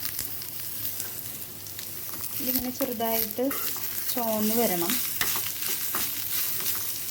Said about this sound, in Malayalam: ഇത്തിരി മല്ലിപ്പൊടി നന്നായിട്ട് ഇളക്കാം